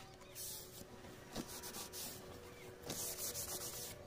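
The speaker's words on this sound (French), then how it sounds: "là je frotte pour bien sécher" A craft piece for an advent calendar rubbed dry with steady, close, soft scrubbing strokes, fairly quiet, with a couple of slightly louder passes and no voices.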